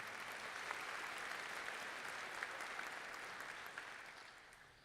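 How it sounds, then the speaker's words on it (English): Commencement crowd at a medical school graduation gives dense, even applause that sounds faint and distant, a continuous wash of many hands that fades slightly at the end. "Let's give her a round of applause as well."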